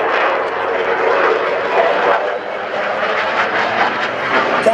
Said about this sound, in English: Captain Baker has begun a spiraling descent in preparation for the dedication pass